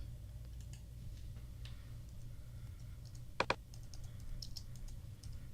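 Typing on a computer keyboard while entering a search in mailing software: scattered soft clicks with a couple of sharper keystrokes midway, faint against a steady low electrical hum, no voices.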